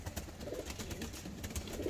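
A Ferozpuri pigeon coos among others in a loft, with low throaty coos under a busy background of rustling and handling noise.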